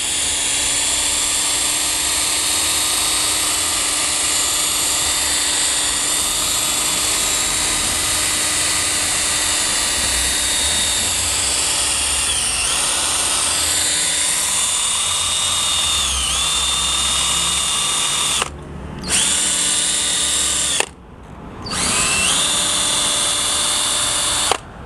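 A rotary polisher pad spins against a car wheel during cleaning, producing a loud, continuous high-pitched motor whine with slight pitch shifts and two brief cut-outs near the end.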